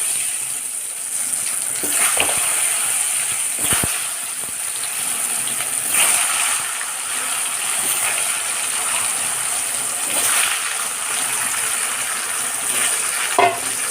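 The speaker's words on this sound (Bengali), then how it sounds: "লাল লাল করে মাংসের আলুগুলো ভেজে নেব।" Potatoes for a meat curry frying in hot oil in a home kitchen, a steady broadband sizzle with occasional louder crackles and spatters running throughout, fairly close and without talk.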